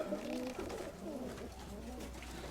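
Pigeons coo softly in low, rolling calls over a steady background hum, with a few overlapping birds nearby.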